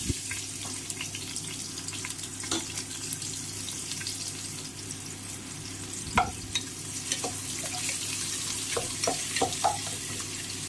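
Onions frying in ghee and oil with bay leaf for prawn biryani, a constant moderate sizzle with scattered spoon scrapes and light clinks against the pan.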